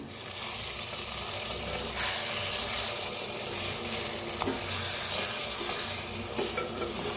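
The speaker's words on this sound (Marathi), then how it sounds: "एकदम मिक्स करूया." Stuffed tomatoes softened in a pan being stirred over low heat, a continuous close scraping and soft sizzling wash with no talk.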